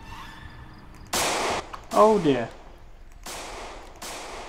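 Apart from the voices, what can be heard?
gunshots in the video game Project Zomboid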